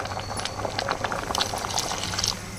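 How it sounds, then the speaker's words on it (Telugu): Water added to a thick tomato dal, with a steady bubbling, sputtering simmer and small pops filling the kitchen at close range. "కొంచెం గట్టిగా ఉన్నది కాబట్టి కొంచెం వాటర్ వేస్తానండి"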